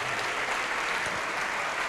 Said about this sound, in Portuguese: Pode aplaudir ao nome do Senhor agora.